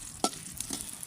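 Garlic, onion, chili and coriander fry together in a pan with a soft sizzle, broken by a couple of quick scraping stirs, close and fairly quiet.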